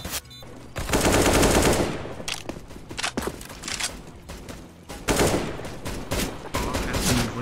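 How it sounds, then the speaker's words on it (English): Gunfire in the video game CS:GO: loud bursts of automatic fire and single shots in clustered volleys, with brief quieter gaps and faint footsteps between them. "this guy's shooting and running"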